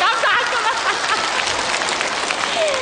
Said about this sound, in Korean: 박수 세게 쳐야 되지